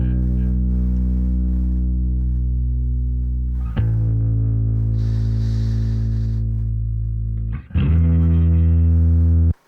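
A distorted bass holds big open notes in a song build-up, three long sustained tones changing at steady intervals, loud and close, with a brief higher wash mid-way and an abrupt cutoff at the end.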